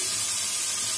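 Water pours into a hot cooking pan for a Taiwanese dish, giving a brief, steady rushing hiss that holds at an even level for about a second, close by and without any voices.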